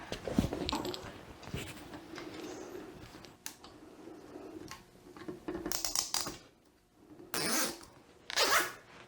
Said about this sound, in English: I'm going to get a couple wire ties on that